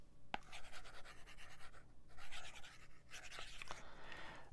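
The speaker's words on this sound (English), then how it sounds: "That's a screen protector called Paper-like. It creates some drag on the iPad and makes it feel just like you're writing on paper" An Apple Pencil writes on an iPad fitted with a Paperlike screen protector, giving soft scratchy strokes in short bursts with small taps and pauses, close and quiet, with no talk.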